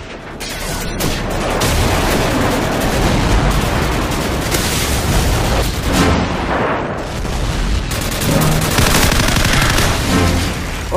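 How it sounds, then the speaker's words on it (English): Sustained battlefield din from Call of Duty 4 multiplayer: loud continuous gunfire and machine-gun bursts with heavy booms from a friendly airstrike, dense and chaotic for the whole stretch with a few sharper impacts. "Friendly airstrike on the way!"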